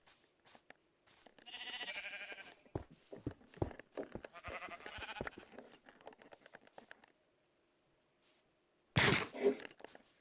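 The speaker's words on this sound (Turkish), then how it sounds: "Koyun. Koyun." Sheep bleat in a video game, with several short bleats in quick bursts mixed with light footstep thuds, a quiet gap, then one last loud bleat.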